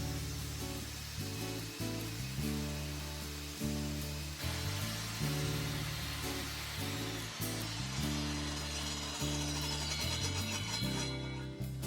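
Hand sawing through plywood to trim down the fence of a wooden crosscut sled, a steady back-and-forth rasping with rhythmic strokes, close and continuous without talk.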